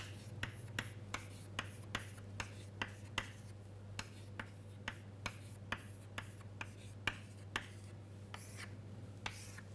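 Chalk tapping and scraping on a classroom board as a matrix is written out, a steady series of short sharp strokes roughly every half second over a constant low electrical hum, with no talking.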